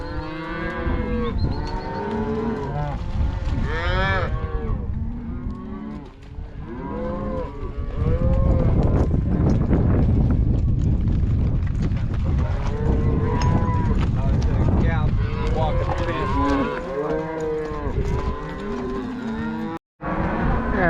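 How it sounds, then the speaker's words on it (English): Cattle on a ranch meadow moo loudly and repeatedly, several overlapping calls close by with a brief quiet gap, over steady outdoor wind noise. "The cows will eat a bit and they should start pairing up."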